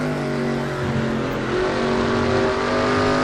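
Chevrolet stock car engine from NASCAR Racing 2003 droning steadily at Watkins Glen, a loud continuous tone with faint rising revs as the car holds speed, no voices.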